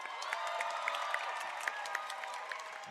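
An esports tournament crowd at the MCSR Ranked World Championships grand finals claps and cheers in a steady, distant roar dotted with sharp individual claps and whoops.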